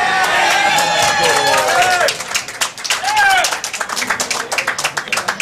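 Crowd at a junior four-wall handball world championship final cheering and clapping loudly through a big point, with whistles and shouts over a continuous roar, then scattered claps and calls as it subsides.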